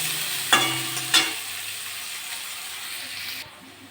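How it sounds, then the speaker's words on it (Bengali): Chopped onions fry in hot oil with black cumin seeds, giving a steady close sizzle. Two sharp metallic clinks of a spatula on the pan come early, and the hiss then drops lower near the end. "পেঁয়াজটা একটু ভাজা ভাজা করে নেব।"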